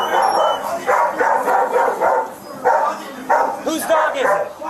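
A dog barks repeatedly in loud, yelping bursts during a confrontation outside a store, the barks overlapping with shouting voices throughout.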